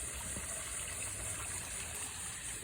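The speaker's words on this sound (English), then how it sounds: "There's my new waterfall." A small garden pond waterfall running through a planted natural filter, giving a quiet, continuous splashing and gushing wash with no breaks.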